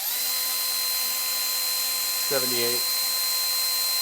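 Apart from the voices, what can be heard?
Milwaukee M12 grinder running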